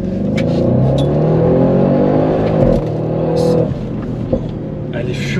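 Audi RS6-R with 730 hp accelerating hard, a loud, continuous engine roar with rising revs heard from inside the cabin, with a brief thump partway through as the pitch drops and then climbs again.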